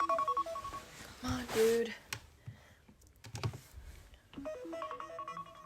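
A phone alarm clock rings in a repeating electronic tone pattern during a morning routine, with a voice cutting in to complain over it.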